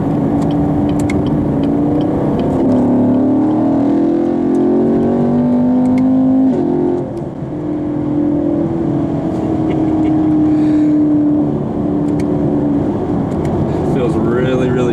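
A 2016 Chevrolet Camaro SS with its naturally aspirated 6.2-liter engine pulls hard through third gear in track mode. It is heard from inside the cabin as a steady, rising engine drone that holds loud for the whole stretch, with a brief dip midway.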